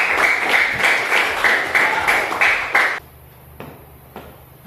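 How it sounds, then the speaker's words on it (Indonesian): A crowd of people clapping together in steady, lively applause for about three seconds, then it stops abruptly, leaving faint taps in a quiet room. "Tepuk tangan untuk teman kalian."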